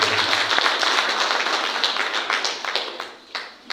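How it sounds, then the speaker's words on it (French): Audience clapping at an ordinary general assembly of the Senegalese women magistrates' association, a dense burst of applause that thins out and fades toward the end with a few scattered claps. "Est-ce qu'on peut avoir encore des applaudissements, s'il vous plaît?"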